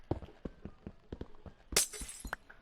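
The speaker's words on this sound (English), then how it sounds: "the amber block kind of sounds like glass" A blocky amber block shatters like glass in the Minecraft Ores+ mod, a bright crash in the middle of a run of soft, regular clicking steps.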